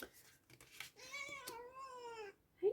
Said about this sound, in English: my kitty cat wants some attention and some playtime